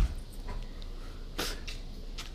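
A show dog plays and whimpers, giving a few brief soft whines and snorts close by over a steady room hum, with no talk.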